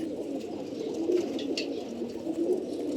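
Young beji-strain racing pigeon squabs coo in a steady, rolling murmur, close by and fairly loud, with no talking over them.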